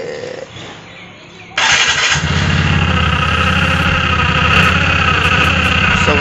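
A TVS Ntorq BS6 Race Edition scooter with a sound problem fires up after a short quiet lead-in, then settles into a loud, steady, close-up idle with a buzzy mechanical rattle.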